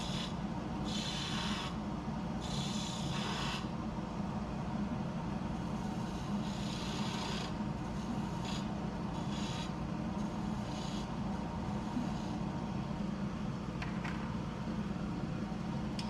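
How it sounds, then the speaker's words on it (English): A woodturning lathe hums steadily while a tool makes a V cut into a spinning wooden mushroom, the rasping scrape coming in repeated bursts over the constant drone, close and fairly loud. "doing a V cut here just to get rid of some material and refine the bottom of the mushroom"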